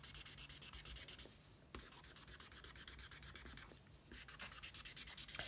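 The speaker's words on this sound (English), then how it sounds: "Go ahead and get some different color greens on your paper." Markers in shades of green scribbled back and forth on paper, a quick rhythmic rubbing stroke repeated steadily in two bursts with a short pause between, close and quiet with no talk.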